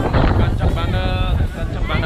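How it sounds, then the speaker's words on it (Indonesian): Strong, cold mountain wind buffets the microphone on the way up a long cable car route at about 1500 m, a loud, continuous roar with a voice partly heard beneath it. "Anginnya kencang banget"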